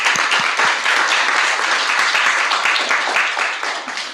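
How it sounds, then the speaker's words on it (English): Steady crowd applause at a youth assembly session, dense clapping sustained throughout, fading slightly at the end. "A round of applause, guys."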